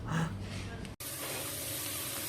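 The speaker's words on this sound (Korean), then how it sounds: "아, 지글지글 맛있겠다." Food sizzles on a wood-fired iron griddle in a Korean restaurant, giving a steady broadband hiss. Talk and clatter sit over the first second, then the sizzle carries on alone, close and fairly loud.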